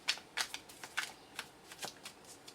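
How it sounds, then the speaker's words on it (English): Tarot cards being shuffled close up, a steady run of crisp riffling flutters repeating about every third of a second, quiet with no talking. "I think it's easier and less confusing for me if I just have the cards facing me when I'm shuffling"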